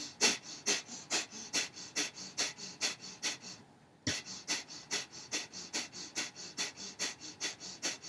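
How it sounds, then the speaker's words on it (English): Breath of fire yoga breathing: rapid, forceful exhalations through the nose at an even, quick pulse of about two per second, close and clear, with one brief pause midway before the steady rhythm resumes. "breathing rhythmically through the nose, pumping the navel, inhaling, the stomach comes out, exhaling, the stomach comes in to force that breath out"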